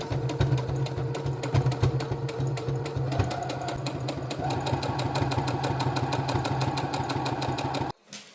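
A sewing machine stitches a hem along the seam of a homemade dress skirt, running steadily and close with a fast mechanical rhythm for about eight seconds before it stops abruptly.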